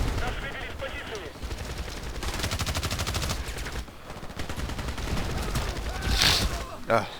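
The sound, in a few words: QBB-95 machine gun firing in a video game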